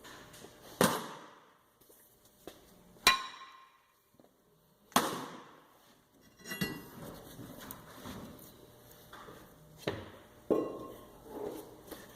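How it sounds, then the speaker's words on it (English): A hammer strikes the brake rotor on a 2007 Mazda 6 in several sharp metallic blows, spaced apart and close, with lighter clanks and rattling between them. "so we're going to knock it off the back with a hammer"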